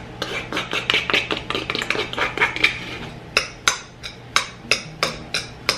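A spoon clatters and scrapes rhythmically against a bowl while mixing zucchini, chickpeas, oats and flax egg, with a quick run of close clinks followed by slower, spaced knocks.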